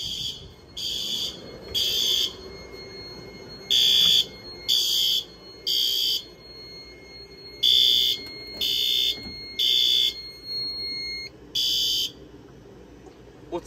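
A first-generation fire alarm horn on a Fire-Lite MS-9200UDLS panel blares in repeated raspy bursts, about ten pulses at an uneven rhythm, loud and close, with a faint steady tone between some of them.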